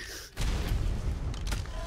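Rocket launcher explosions during a raid in the video game ARK: Survival Evolved, a sudden loud blast followed by a sustained rumbling roar and a couple of further booming bursts close up.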